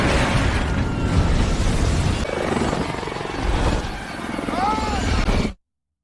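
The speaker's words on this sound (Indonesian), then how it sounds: "Tapi tiba-tiba sebuah pesawat menembak jembatan di situ hingga hancur." Film action scene of a plane destroying a bridge as helicopters crash: a loud, dense roaring blast of rumble and rotor-like churning with a whooshing tail, ending abruptly.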